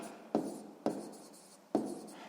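Pen on paper during a sixth-grade math exercise: three sharp onsets of the tip meeting the page, each followed by a soft, scratchy trail of writing, close and quiet with no voice.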